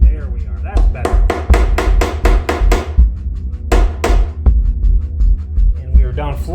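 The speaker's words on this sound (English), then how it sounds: "what I do is I have a brass hammer" A brass hammer taps a wooden part into place on a 7-string jazz box guitar under construction, a quick run of sharp, close strikes, a pause, then a few more blows over a steady hum.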